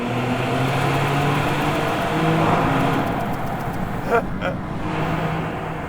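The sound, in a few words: Maserati engine revving in a tunnel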